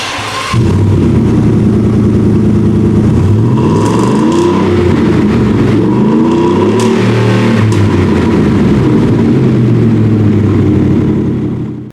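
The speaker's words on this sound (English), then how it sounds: "They do have a performance catback dual exhaust in here that has a great sound." A 2018 Ford F-150 SCA Apex Edition with a performance catback dual exhaust revs up several times close by, pitch rising and falling in throaty sweeps, then cuts off.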